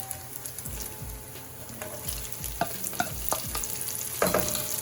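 Onions and bacon fry in a pan, a steady close sizzle with crackling pops and several scraping stirs of a utensil against the pan.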